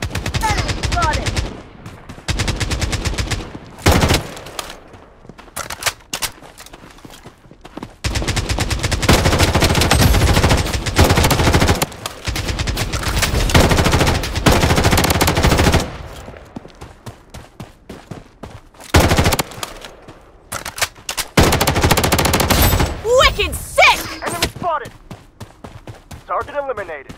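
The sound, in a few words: gunfire in the video game Blood Strike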